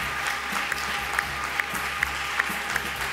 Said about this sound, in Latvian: Vēlreiz skaļi aplausi